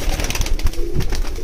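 Golden pigeons with red eyes, kept for sale, cooing in soft low repeated calls close by, with a busy background of other birds and ambient noise throughout.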